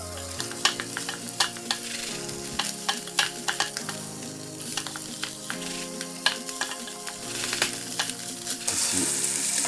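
Pasta cooking risotto-style in broth in a pan, a soft continuous sizzle and bubbling with a spoon stirring and scraping in repeated close strokes, no voices.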